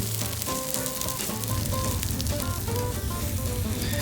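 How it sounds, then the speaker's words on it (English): Squash halves laid face down on a Blackstone griddle with butter and garlic nearby, searing with a steady, close broadband sizzle that runs throughout, with faint tonal background music underneath. "as I place the squash on the griddle, I lay it face down to ensure I get a good caramelization on that face"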